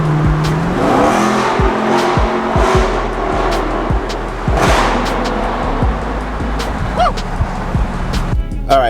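Wrapped car called Genezilla revving hard in a loud series of rising and falling engine bursts with some tire squeal, close by, with voices cheering and talking underneath.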